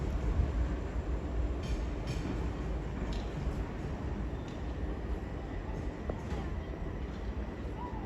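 Two coupled Class 376 electric trains run at Sevenoaks with a steady rumbling roll and occasional light clicks and squeals from the wheels, moderately close and continuous throughout.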